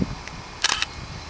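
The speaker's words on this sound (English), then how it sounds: "One, by actually pressing the shutter release button right here." A Canon 30D DSLR shutter fires once at close range, a sharp mechanical clack of mirror and curtain with a brief double snap, alone in a quiet room.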